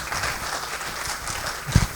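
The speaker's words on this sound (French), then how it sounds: "on applaudit encore professeur Berbiche" Conference audience at a supply chain event applauding a professor after his presentation; an even patter of clapping from a roomful of people, with a louder thump near the end.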